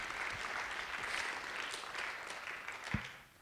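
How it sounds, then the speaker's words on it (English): Audience members at a Saturday afternoon session clap for a couple seated in the room, a moderate, even patter of many hands that swells slightly and then fades out at the end. "Let's give them a round of applause again."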